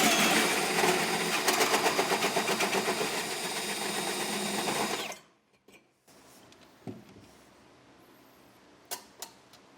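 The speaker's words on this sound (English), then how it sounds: "Put your leg right there to stop your drill because it's going to want to kick out on you." A drill bores a hole through a pickup truck bed during a gooseneck trailer hitch installation, grinding loud and pulsing for about five seconds, then cutting out into quiet with a few light knocks.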